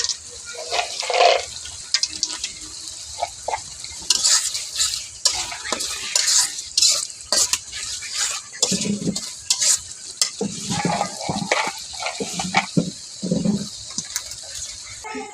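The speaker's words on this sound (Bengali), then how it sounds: "আমার মশলাটা কিন্তু হয়ে গেছে উপরে তেল বাইসে উঠছে এখন আমি মশলাটা দিয়ে কষাইলাম" Spice masala sautés in oil for homemade chicken biryani, with a steady sizzle broken by frequent scraping stirs and clinks of the spoon against the pan, close and fairly loud.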